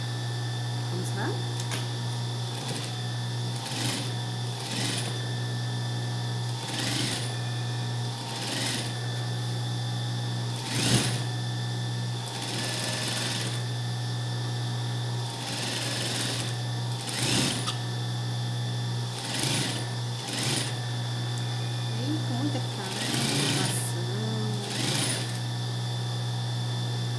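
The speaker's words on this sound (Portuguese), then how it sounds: "Aí vamos passar a costura aqui, tá? Fazendo uma barra." A sewing machine stitches a hem on a child's shorts, its steady whirring motor hum running in repeated bursts with brief pauses between them, while a person talks at times over the sound.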